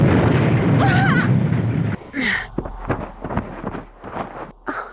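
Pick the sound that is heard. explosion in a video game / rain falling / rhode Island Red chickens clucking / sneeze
explosion in a video game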